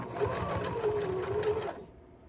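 A sewing machine runs in one steady, close burst of rapid stitching while elastic is sewn onto panty fabric, then stops abruptly near the end.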